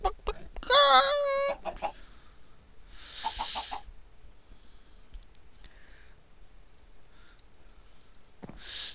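Chickens in the video game Minecraft cluck in a loud burst of harmonic squawks near the start, followed by softer clucks and clicks scattered through the rest, with quiet game ambience between.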